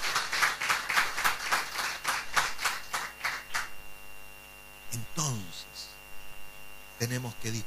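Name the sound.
applause in church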